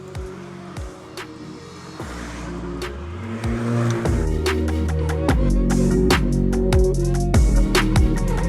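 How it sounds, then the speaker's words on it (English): A Honda Civic Type R drives by, its engine building as it accelerates through the gears, growing louder and closer before holding a strong, steady note, with sharp clicks and knocks layered over it. "And I think we have a CTR coming right now."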